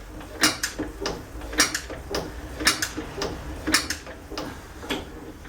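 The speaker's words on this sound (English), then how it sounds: "that there is called the injector creak. As you see, it actually does creak." Lister LD1 diesel engine being cranked by hand, its injector giving off sharp, regular creaks and clicks in a repeating rhythm of paired ticks over a low mechanical background, close and fairly quiet.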